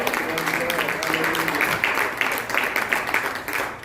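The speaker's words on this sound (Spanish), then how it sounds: "dale un aplauso a Dios" A church congregation applauds during a sermon, a sustained wash of clapping that swells after the first second, with voices and a preacher's speech blending in at the start.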